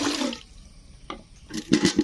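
About 100 ml of water poured into a container used to collect rubber latex at a rubber tapping site: a close, splashy rush at the start, a brief lull with a small splash, then louder gurgling spurts at the end, with no talking.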